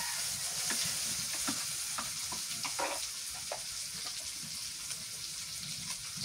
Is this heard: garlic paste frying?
yes